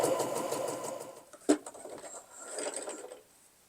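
A Feiyue FY e350 sewing machine running a rick-rack stitch, a close rapid mechanical whirring that slows and pauses mid-clip, then resumes briefly.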